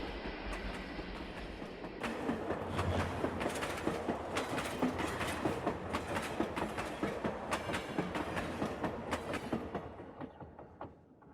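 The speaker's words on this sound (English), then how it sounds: "the big freight train passes by on his way to the yards" A model railroad freight train runs past on its way to the yards, with a steady rhythmic clickety-clack of wheels over rail joints that builds, holds, then fades as it moves away.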